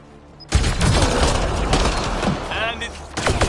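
Dense battle gunfire in Mass Effect Andromeda, a sudden loud onset of overlapping shots and blasts that roars continuously for about three seconds, with talk mixed into the din.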